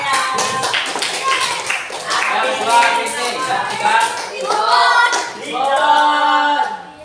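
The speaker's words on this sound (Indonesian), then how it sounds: "tepuk tangan ya" A group claps in bursts of rapid applause while a voice keeps talking over it close by.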